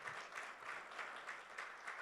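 An audience applauds, a soft, continuous patter of many hands clapping at a distance, fairly quiet and even throughout, with no voices over it.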